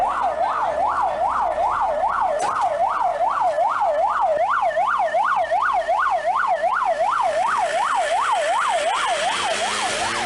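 An ambulance siren wails in a rapid, continuous up-and-down pattern, loud and close, with traffic noise underneath.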